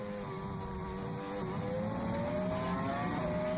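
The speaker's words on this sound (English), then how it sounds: "Listen to the throttle now." A Formula One car's engine in qualifying at the 2005 Chinese Grand Prix holds a high, sustained whine that climbs steadily in pitch under throttle, heard from onboard at moderate level without talking.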